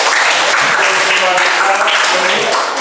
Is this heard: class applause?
yes